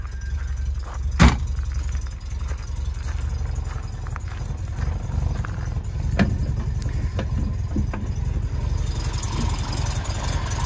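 A 1970 MGB roadster engine with twin carburettors and electronic ignition idles steadily with a low, throaty rumble, a couple of sharp clicks or knocks standing out over the continuous drone.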